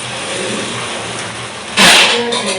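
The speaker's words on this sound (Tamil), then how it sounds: "நாங்கள் இதுக்குள்ள இப்போது புளி தண்ணியை ஊற்றி பாலை விடுவோம்" Tamarind water poured into a pot of crab curry cooking over a village fire in Jaffna, a brief loud splashing pour rising out of steady background hiss and rumble near the end.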